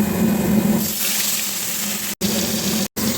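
Bhola fish hits hot oil in a pan, setting off a loud, steady sizzle and crackle that runs throughout, broken by two brief gaps near the end.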